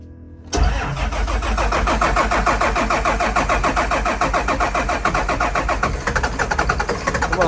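A 2005 Blue Bird All American school bus with a Cat C7 diesel engine cold-starts after a short quiet moment, cranking then catching into a loud, rough, rumbling idle close by.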